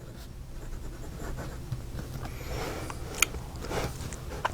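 A Wing Sung 627 fountain pen with a fine nib writes on paper, a faint, close scratching with light strokes and a few small taps, with no talking.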